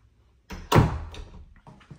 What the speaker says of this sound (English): Let's see what's inside of this door right here.